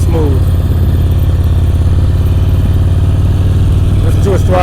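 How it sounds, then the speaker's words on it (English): A motorcycle engine held at low, steady throttle during slow-speed riding practice in Ohio, a continuous close mid-pitched drone with smooth, even pulses and no sharp revving, with faint background noise. "Listen to his throttle."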